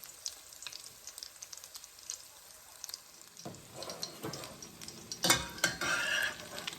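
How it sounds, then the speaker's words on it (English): Shrimp and beef egg foo young cooking in a pan over medium heat, quiet sizzling with scattered scrapes and clinks of a utensil, growing louder and busier in the last few seconds. "We're going to let it cook on one side for about maybe, I'd say about 2 minutes."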